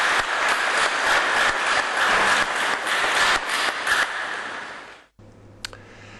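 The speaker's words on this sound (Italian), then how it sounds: "E mentre un applauso saluta per l'ultima volta questa coraggiosa mamma, Samuele sfiora la bara con una carezza" Mourners applauding at a funeral for a mother, a steady dense clapping that carries on for several seconds before fading to quiet.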